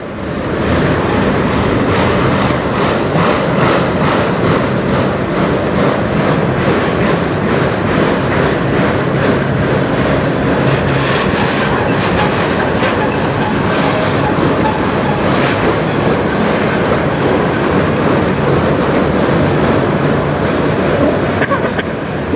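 Freight cars of CN train M384 roll steadily past close by, a loud, continuous rumble with rhythmic clickety-clack from the wheels over rail joints.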